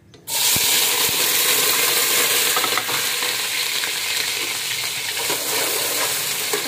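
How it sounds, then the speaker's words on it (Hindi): Onions drop into hot oil and burst into a loud, steady sizzle close by, a dense hiss of frying that continues evenly after the first moment of quiet. "ऑयल में ये अनियन।"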